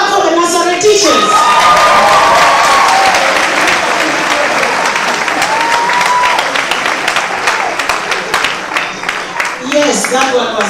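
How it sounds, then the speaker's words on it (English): Audience at a university medical faculty graduation oath ceremony applauding loudly for the nursery teachers, sustained dense clapping with cheers and a few shouts, a voice speaking over it near the end. "Clap for the nursery teachers."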